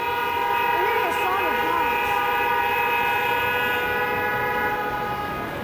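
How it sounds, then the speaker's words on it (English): Car horns honk along a busy Madrid street, several sustained, overlapping tones blaring loudly and steadily over constant traffic noise for the whole stretch. "We're hearing a song of honks."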